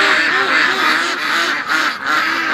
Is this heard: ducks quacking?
yes